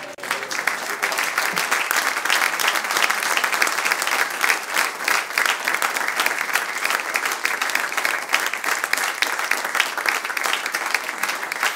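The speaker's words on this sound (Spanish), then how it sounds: "Le damos un aplauso a Dios" A church congregation at a Friday evangelical service claps together, sustained loud applause of many hands with a fast even texture filling the whole stretch without letup.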